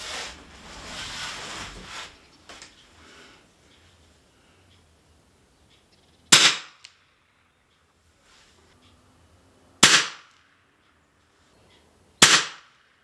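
A .177 Gamo Hunter air rifle fires pellets through a chronograph: three sharp, loud cracks spaced a few seconds apart, each ending abruptly, after faint rustling and handling noise at the start.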